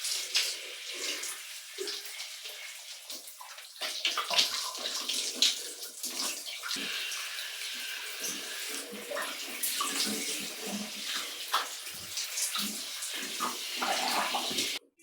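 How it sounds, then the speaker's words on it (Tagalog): Steady water from a shower spraying and splashing as a body is rinsed, continuous and fairly close, with no talking. "babalawan na natin yung body natin ng mainit na tubig"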